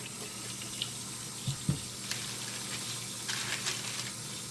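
Water running from a tap into a kitchen sink while trays are washed, a steady gushing rush with a few soft knocks and clatters of trays against the basin.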